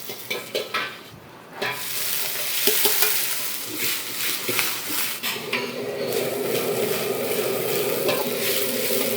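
Mushrooms stir-fried with scallion oil in a busy hotel Chinese kitchen: steady sizzling and frying, a ladle scraping and clanking against the wok, with a few sharp metal knocks early on.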